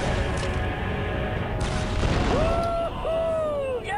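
An enemy Geonosian fighter explodes in Star Wars Republic Commando, a loud, sustained roaring blast within dense battle noise, followed by whistling, wavering tones as debris falls.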